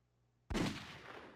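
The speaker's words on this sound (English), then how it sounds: "With the sharp crack of the gun, a silver bullet whistled toward me like a streak of light." A single loud gunshot sound effect cracks sharply out of near silence, followed by a rumbling echo that slowly fades.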